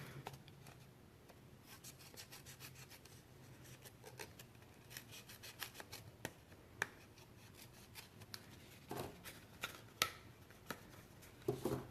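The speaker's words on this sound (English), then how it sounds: "No, we're just gonna go with the scissors." Scissors cut paper at a kitchen table while a Stampin' Up ice cream cone gift box is being made. Soft rubbing and rasping comes with scattered quiet snips and clicks, all low in level and close by.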